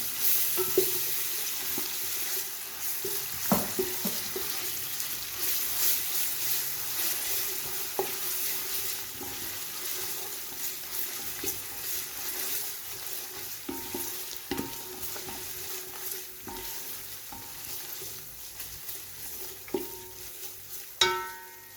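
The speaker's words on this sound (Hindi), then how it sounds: "लहसुन अदरक को हम प्याज के साथ फ्राई करेंगे।" Garlic, ginger and onion sizzle and crackle steadily in a hot pan, with occasional scrapes and clicks of a utensil stirring, close up and without talk.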